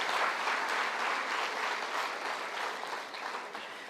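Steady audience applause at a Tamil comedy debate stage show, dense even clapping throughout that eases slightly toward the end.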